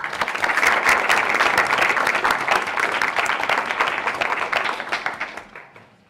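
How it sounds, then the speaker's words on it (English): A room full of people at a school board meeting applauds a Harlingen High School South student swimmer, with dense, steady clapping that holds loud for several seconds before tapering off. "a round of applause"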